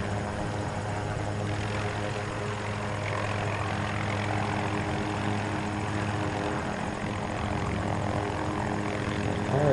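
Helicopter in Battlefield 2042 flying steadily with a loud, continuous rotor and engine drone and a low buzzing hum, unbroken for about ten seconds with no talk.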